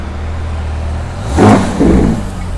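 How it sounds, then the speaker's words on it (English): A Ferrari California T sports car pulls away outside Dubai Mall, its engine swelling briefly as it passes and fades off in a short burst with no talk over it. "you can see the Ferrari California T leaving right there"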